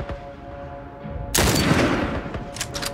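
Rapid bursts of gunfire in The Last of Us video game: a quieter stretch of scattered shots, then a loud sustained volley crackling close, followed by a few more sharp shots near the end.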